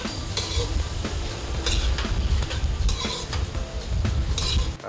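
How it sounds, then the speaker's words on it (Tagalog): Garlic with white and red onions sautéing in a pan, a steady loud sizzle with a spoon repeatedly scraping and stirring against the metal, no talking. "Sa kawali, igigisa ang bawang, puti at pulang sibuyas."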